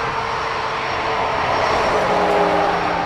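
A KLM airliner passes at Dublin Airport, a steady loud engine roar with a broad rushing wash and faint whining tones, holding close and even for the whole stretch with no talk.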